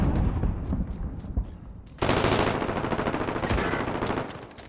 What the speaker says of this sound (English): We're in a firefight in.